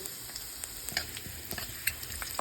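Green chili and ginger paste sizzling in hot oil in a pan, a steady close hiss with scattered spoon scrapes and stirring taps across the whole stretch.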